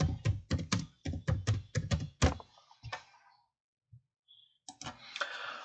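Typing on a computer keyboard: a quick run of sharp, close clicks and taps for about three seconds, a pause with a couple of faint ticks, then a few more keystrokes.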